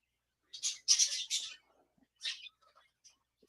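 Pet birds chirp in a home, short bright bursts that come faint and a little distant, with a quiet gap between the calls.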